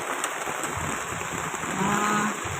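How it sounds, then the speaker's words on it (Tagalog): Light rain falls on a vegetable garden of squash plants in Bulacan, making a soft, even hiss that stays faint and steady with no talk. "Mahina pa naman ang ulan."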